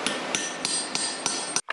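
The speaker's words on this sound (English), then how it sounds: "Hammer it down." Hammer blows striking a socket to drive valve stem seals onto a 1998 Honda Civic D16 cylinder head, six sharp evenly spaced metallic taps about a third of a second apart, close and loud over a steady background hum.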